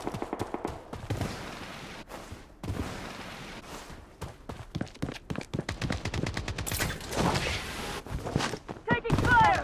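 Rapid bursts of automatic gunfire and scattered single shots from the Blood Strike shooter game, loud and close, clustering in dense volleys with brief gaps, mixed with game voice lines and thuds.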